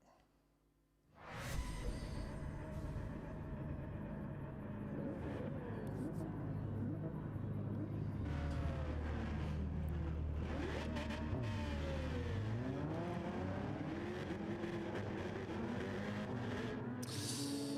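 Super GT-spec GT-R race car in Gran Turismo 7 at Yas Marina, its engine note starting abruptly and then droning loud and continuous, rising and falling in pitch with gear changes, while a voice talks over it.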